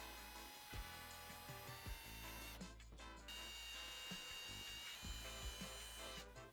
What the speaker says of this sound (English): Now we can take a 1/4 inch drill bit and drill the 4 mounting holes.